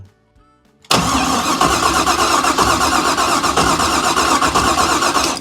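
After a quiet moment, a car engine with no spark turns over with a loud, steady mechanical whirring churn that continues without catching.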